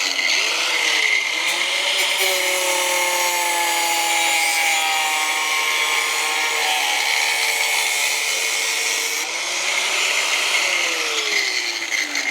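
A power tool grinding and cutting metal on a Jeep Renegade during a rock slider install, a loud continuous high-pitched whine that holds steady for several seconds, dips briefly, then spins back up.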